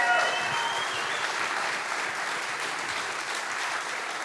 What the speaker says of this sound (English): Give Sam a great round.